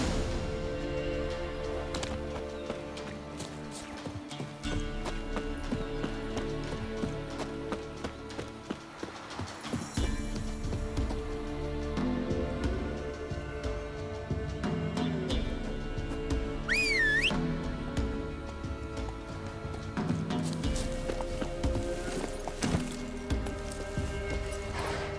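Roach the horse gallops in The Witcher 3, with rhythmic hoof clip-clops running steadily under ambient game sounds and music, plus a brief whistle.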